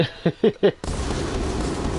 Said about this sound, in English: I thought I got rid of the other fucking firework